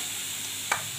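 Cooked dal sizzles in a pan as it is tempered with spices and turmeric: a continuous frying hiss with one quick scrape of stirring near the end, and no voices.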